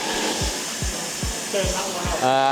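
Steady loud rushing hiss of an air-powered stripping tool running close by on a Land Rover Series 3 tub, with a few low thumps and a brief whine near the end.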